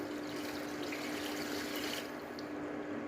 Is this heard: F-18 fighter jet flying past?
no